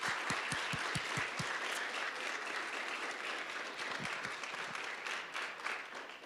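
Steady audience applause fills the room at a university final presentations event, dense clapping sustained at an even level throughout with a few louder individual claps near the start.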